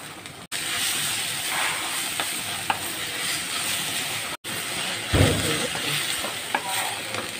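Radish and mung bean sprouts stir-fry in a hot pan with a steady broadband sizzle and scraping stirs, two brief dropouts and a louder burst of frying about two-thirds through.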